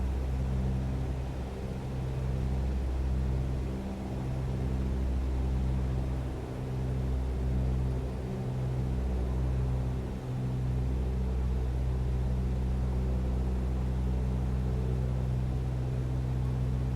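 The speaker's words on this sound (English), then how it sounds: "the whole time I'm doing this, I'm listening to the engine" A steady, droning aircraft engine hums without a break inside a Microsoft Flight Simulator light plane flying over the UK, a constant low rumble with slight wavering in pitch.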